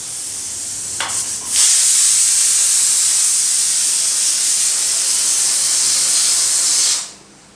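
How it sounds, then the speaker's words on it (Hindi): A pressure cooker lets off a long, loud whistling hiss of escaping steam, rising quickly after a few faint sputters, holding steady for several seconds and then cutting off, with no talk over it. "कुकर सीटी मार रहा है"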